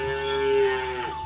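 A cow on a farm gives a single short, tonal moo, close and clear over quiet surroundings.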